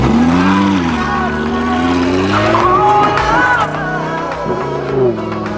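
A stolen Lamborghini's engine roars loudly and continuously as the car drives away, its pitch rising and falling, easing slightly toward the end.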